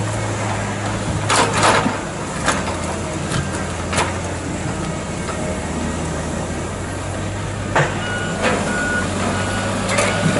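A truck's reversing alarm beeps in repeated bursts while it is loaded with big trees, over steady engine rumble with occasional clanks and knocks from the loading work.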